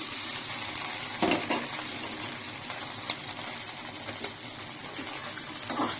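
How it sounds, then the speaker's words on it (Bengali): Spring onions and chopped onion fry in hot oil in a pan, giving a steady, dense sizzle throughout with a few soft stirring knocks. Nobody speaks. "প্যানে তেল বসিয়ে দিয়েছি আর পেঁয়াজ কলি আর পেঁয়াজ কুচি দিয়ে দিচ্ছি।"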